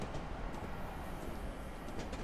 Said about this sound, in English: That's another train right there.